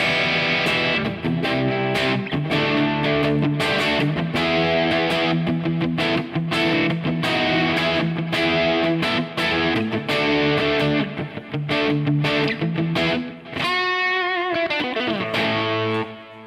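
Distorted electric guitar played through a small NUX Mighty Lite BT MK2 desktop amp with effects, a loud continuous run of chords and riffs that ends on a ringing, decaying chord.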